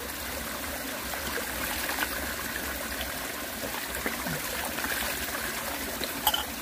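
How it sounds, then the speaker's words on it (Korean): Running water from a tap splashes steadily while someone washes their face outdoors on a cold winter day, a continuous close trickle and stream with occasional small splashes. "나도 세수 좀 하고 가야지"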